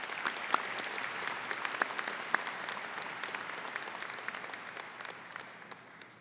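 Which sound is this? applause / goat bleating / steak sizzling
applause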